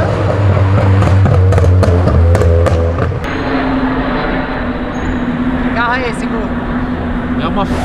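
A Corvette roars past, loud and close at first with its engine note fading away after a few seconds, while people talk excitedly over the passing car.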